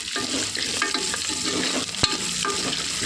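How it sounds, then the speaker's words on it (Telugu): Mustard seeds and cumin fry in hot oil for a mango dal tempering, giving a steady close sizzle with light stirring scrapes and one sharp pop or clink partway through. "అవి వేగుతుంటుండగా ఇలా ఆవాలు, జీలకర్ర ఇలా వేసుకొని"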